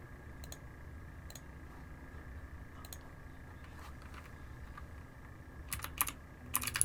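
Quiet typing on a computer keyboard at a desk, with scattered clusters of key taps that grow into a faster, louder burst of clicks near the end, no talking.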